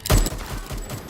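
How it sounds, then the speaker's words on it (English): Gunfire in a combat engagement erupts as one loud close burst at the start, followed by lower rumbling echoes and scattered fainter crackles. "Gunfire alerts the enemy forces below,"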